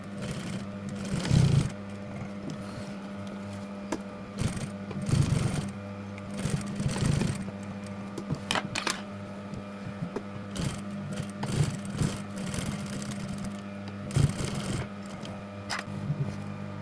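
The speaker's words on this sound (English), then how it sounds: "Pin and sew the other side of the waistband in place." A sewing machine sews a jeans waistband in place, running in short stop-and-start bursts of mechanical whirring with thumps between them, close and moderately loud over a steady low hum.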